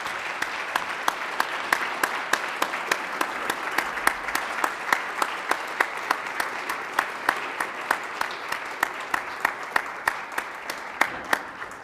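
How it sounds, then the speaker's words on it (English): Audience applause for four forum panelists at a discussion event, a steady wash of many hands clapping that holds strong for the whole stretch, with scattered sharper individual claps standing out near the end. "join me in a robust round of applause for these four eloquent"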